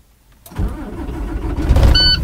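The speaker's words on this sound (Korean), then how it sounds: "시동도 한번 걸어보겠습니다" Navistar International truck engine starting, heard up close: a brief silence, then the engine cranks and catches into a loud, steady running rumble with a faint high whine near the end.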